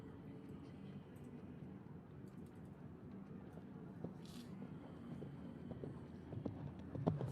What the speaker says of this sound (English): The horse comes in with direction and speed.